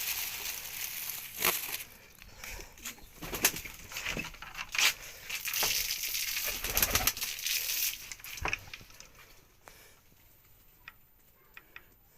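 Pigeons coo softly nearby as they are fed, amid fluttering, shuffling and pecking sounds, with scattered clicks that grow quieter toward the end.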